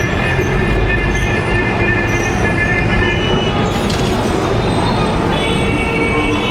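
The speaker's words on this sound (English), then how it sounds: "Calcutta's icon, Calcutta's tram." A Calcutta tram rolls along its rails with a loud, continuous rumble and grinding, and thin high metallic squeals ride on top throughout.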